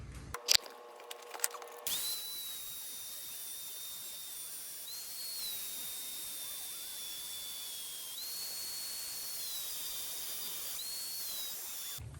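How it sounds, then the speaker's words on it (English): A grinder takes metal off a part from a Yamaha Grizzly 660 ATV, giving a steady high-pitched whine with hiss that wavers slightly in pitch. A few clicks and clatter come just before it. "So I'm gonna grind a little bit off this, and then we're gonna try and shove it back in."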